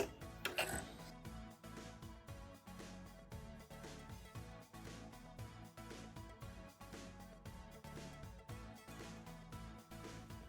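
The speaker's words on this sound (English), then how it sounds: "So I'm going to be sewing once on this side and once on this side so that it stays where it's supposed to." A sewing machine stitches a fabric travel tissue pouch with a quiet, steady rapid mechanical clatter of regular needle strokes, fairly faint and close, with no talking.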